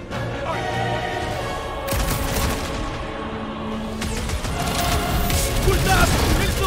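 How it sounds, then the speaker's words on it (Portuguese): Rapid gunfire aimed at a giant robot in the Guardians of the Galaxy game, continuous loud bursts and booms in a chaotic battle mix, with voices shouting over the shooting. "Eu tô atirando no robozão há horas!"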